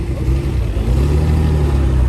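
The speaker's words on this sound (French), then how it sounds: "Entendez le beau bruit de ce moteur." A six-cylinder Austin Healey 3000 racing car engine runs in a steady deep rumble that grows slightly louder, heard up close with no talk.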